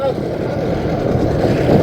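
Boat engines idling before a race in Papua New Guinea, a loud, steady motor drone with wind buffeting the microphone and a voice over it.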